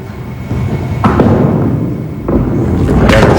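A 5-pin bowling ball strikes the pins in a televised preliminary match, giving a sharp clattering impact near one second and another burst of pin crashes toward the end over a steady alley hum.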